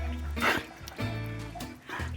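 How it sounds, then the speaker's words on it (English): Ace the dog barks outdoors at a lake, a few separate loud woofs spaced apart, with speech-like voices around them. "You hear that bark?"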